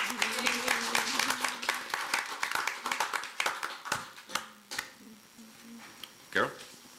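Applause at a village board meeting: a burst of scattered hand clapping from a small room crowd, thinning into a few isolated claps over several seconds, with voices speaking underneath.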